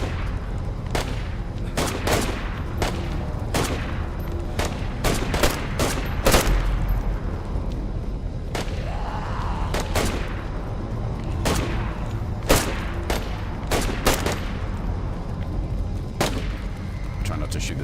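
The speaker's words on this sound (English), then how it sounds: "I feel like we're just double shooting the same fucking zombies." Gunfire at zombies in the DayZ video game on the Deer Isle map: sharp gunshots crack one after another at irregular intervals, some in quick pairs, loud and close over low background rumble, with faint talk between shots.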